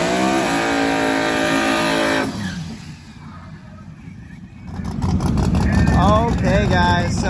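Drag racing cars, including a Motion Raceworks Mustang, roar loudly at a drag-and-drive event, their engines revving high and then fading before another loud, rising blast of acceleration, with a voice talking over it.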